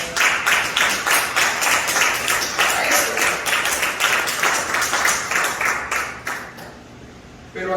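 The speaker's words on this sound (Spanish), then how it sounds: "Un aplauso al Señor." A church congregation claps in praise, a rhythmic, loud burst of many hands clapping in near-unison beats, sustained before fading out toward the end.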